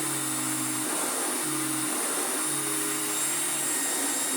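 Electrolux Glider vacuum cleaner running on carpet, a steady close whine with airflow hiss and a low hum that wavers in pulses as it is pushed back and forth.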